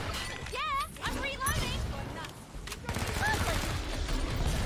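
Gunfire from Killing Floor 2 rattles through a chaotic SWAT-class fight against zeds, with dense bursts and crashes running continuously under excited shouting and game sound effects.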